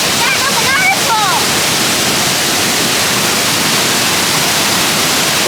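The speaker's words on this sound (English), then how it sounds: "Look at the water's running down the steps. That's a waterfall!" Agate Falls in Michigan roars as a steady, loud broadband rush of falling water, a few brief voice-like tones rising over the opening second.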